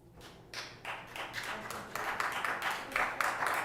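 Scattered hand claps from a small audience at a city council meeting, a handful of quick bursts that build slightly, fairly quiet and close, over low room noise.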